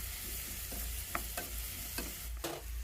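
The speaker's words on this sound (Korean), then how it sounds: "이때 소금 간을 살짝 해주고 썰어둔 채소를 넣고 볶아줍니다." Mushrooms and chopped vegetables stir-fry in a pan with a soft, steady sizzle, punctuated by several light scraping strokes of a utensil stirring the food.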